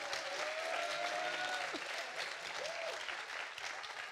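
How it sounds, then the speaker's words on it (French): An audience at a tech conference keynote applauds loudly and continuously, a dense wash of clapping that holds strong throughout, with a few cheers and voices mixed in. "On l'applaudit bien fort."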